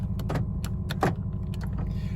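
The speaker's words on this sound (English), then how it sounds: "make sure the doors lock and unlock" Power door locks on a used car being locked and unlocked, a series of quick mechanical clicks and clunks over a steady low engine or road hum, close by.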